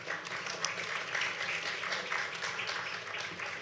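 A room of conference attendees applauds a panel moderator and panelists, steady, fairly loud clapping from many people with a faint hum beneath and no talking.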